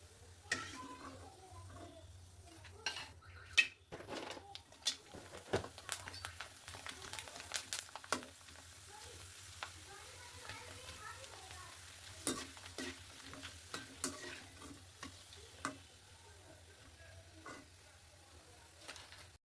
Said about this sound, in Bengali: আমি এভাবে আরও কয়েকবার তেলে ভেজে দেখিয়ে দিচ্ছি।